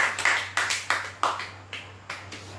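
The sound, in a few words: congregation clapping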